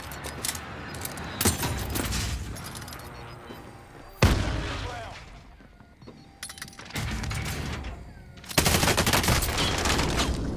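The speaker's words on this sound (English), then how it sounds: "Enemy precision airstrike. Take cover." Repeated heavy booms and bursts of gunfire from a precision airstrike in Call of Duty Warzone, loud, broadband blasts arriving in waves with quieter gaps between.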